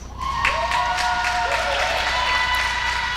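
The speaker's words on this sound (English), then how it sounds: "Nice applause from the home crowd here." Steady home-crowd applause at a wrestling match fills the clip, with a whistle-like tone rising above the clapping and a commentator's voice faintly underneath.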